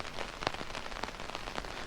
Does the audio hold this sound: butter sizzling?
no